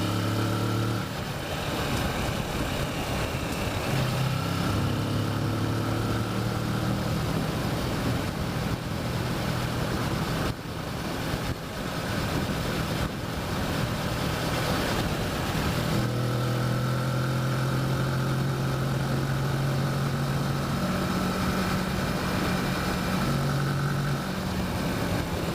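A Kawasaki Versys motorcycle rides along Hells Canyon Road in Idaho, its engine droning steadily and loud with wind noise, the pitch rising through the revs and stepping with gear shifts over a long stretch.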